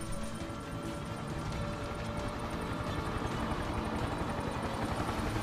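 Continuous loud rotor and engine drone of a helicopter in the racing game Need for Speed: The Run, a steady broadband roar with a rapid chopping texture holding throughout.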